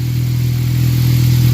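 A car engine idles steadily while warming up after a downpipe and frontpipe install, with a low, even hum and a constant throbbing tone, close and unchanging throughout.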